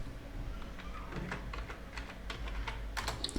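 Fingers type on a computer keyboard in a quick run of light, close clicking keystrokes over a low hum.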